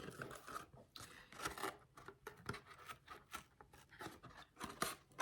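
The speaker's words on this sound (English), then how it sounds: "I just put my scissors in and I cut up" Repeated snipping and rasping of scissors cutting through material, a steady run of short crisp strokes close up, with no voices.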